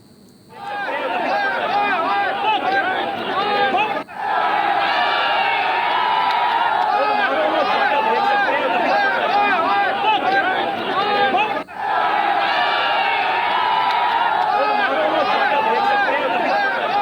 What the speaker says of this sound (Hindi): तो बेकाबू भीड़ यहां पर अचानक से हुई है।